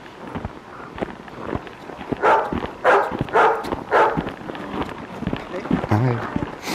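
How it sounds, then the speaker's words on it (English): A dog met on a snowy mountain hike gives several short barks and whimpers mid-clip, close by, mixed with footsteps crunching in snow and people talking over it. "We're coming up on our second dog of the trip."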